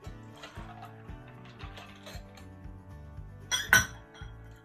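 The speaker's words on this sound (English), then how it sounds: "Whack the coffee in there." Cold coffee poured into a cocktail shaker packed with ice for an espresso martini, giving close, bright clinks of ice against metal and a short splashy burst near the end over quiet background music.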